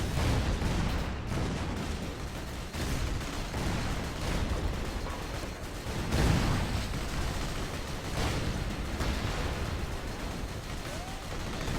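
Artillery fire and explosions in a Rise of the Reds battle form a loud, continuous rumble with repeated heavy booms and scattered gunshots, no voices over them.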